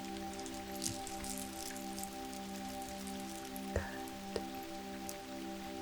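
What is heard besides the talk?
rain falling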